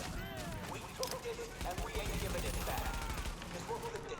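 Rapid bursts of gunfire in The Division, in a Power Plant challenge mode firefight: quiet, crackling shots repeating in quick succession throughout, mixed with other game noise.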